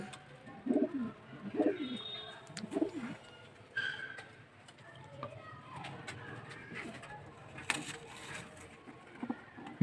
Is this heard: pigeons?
yes